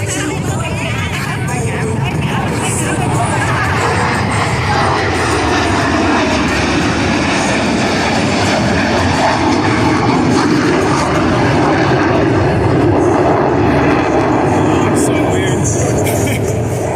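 Military jet aircraft in carrier landing configuration at the Chippewa Valley Airshow give off a loud, steady engine roar that fills the whole clip, with crowd chatter and a commentator's voice mixed beneath it.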